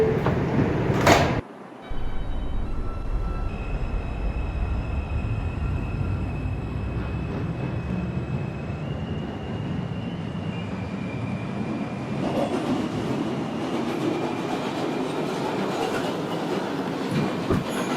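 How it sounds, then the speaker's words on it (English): A New York City subway 4 train runs toward Woodlawn, rumbling and clattering steadily along the track with tonal motor whines rising and shifting, after a brief door or brake sound near the start. "This is a Woodlawn bound 4 train."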